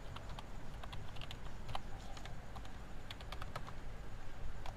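Quick, irregular clicks of typing on a computer keyboard, close and fairly light, as an email address is entered.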